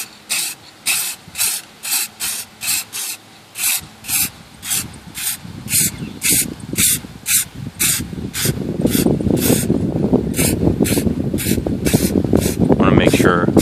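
Short rhythmic bursts from an aerosol spray can lay a second light coat of paint onto a Chevy emblem, about a dozen evenly spaced hisses that merge into a steadier spray toward the end, close and loud.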